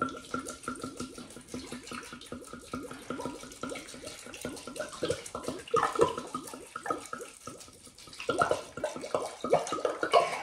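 Red wine glugs and splashes into a cooking pot in a home kitchen, a steady liquid pour running for several seconds with louder bursts toward the end, close and clear with no talking.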